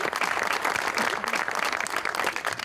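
A studio audience at a comedy show bursts into a dense, steady round of applause for Amanullah, many hands clapping at once for a short burst.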